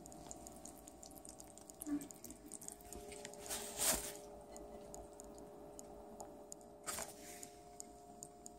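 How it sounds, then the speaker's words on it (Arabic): Pizza dough for a mushroom pizza, made with a few drops of vinegar, kneaded by hand, giving soft wet squishing and sticky slaps at a steady close pace, with a few louder squelches, no voices. "وهنا هنبتدي نعجن العجينة."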